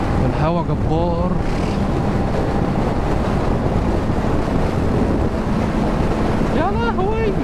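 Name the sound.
strong wind blowing into microphone while driving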